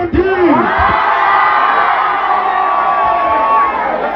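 A live concert crowd at a beach bar in Bamburi, Mombasa, roars with loud whoops, shouts and cheering, close and dense throughout, with clapping buried in the voices.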